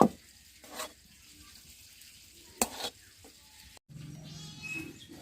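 A spoon works a semolina mixture around a pan on the stove, producing quiet, intermittent scraping strokes with a faint sizzle beneath and a few sharper knocks against the pan.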